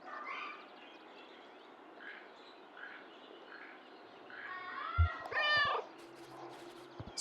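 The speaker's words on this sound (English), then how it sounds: "Skeptical meow." A cat in the video game Kentucky Route Zero gives a drawn-out meow, preceded by faint soft chirping calls over a quiet ambient hush, then a short knock and low hum.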